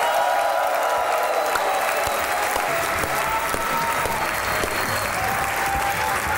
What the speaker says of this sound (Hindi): आपकी भरपूर तालियों में नुमान हबीब और अस्मा नुमान।